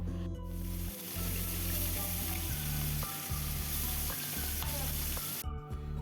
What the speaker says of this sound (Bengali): মাছগুলোকে একটু নুন হলুদ মাখিয়ে তেলের ওপরে হালকা করে একটু ভেজে নেব